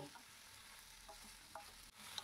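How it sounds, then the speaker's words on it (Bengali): Sliced ridge gourd (jhinga) stirs and fries in a pan over high gas flame, with a faint steady sizzle and a few soft scraping clicks of the spoon, no voices. "এবার সুন্দর করে নেড়ে চেড়ে ভালো করে ভেজে নিতে হবে"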